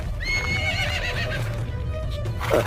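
A horse in a cartoon about bandits on horseback lets out a loud, clear whinny with a falling pitch, then hooves clip-clop underneath and a brief scuffle of noise follows.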